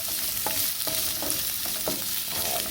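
Food sautes in a pan with a loud, continuous sizzle, broken by a few regular scraping stirs from a utensil, recorded close with no talking.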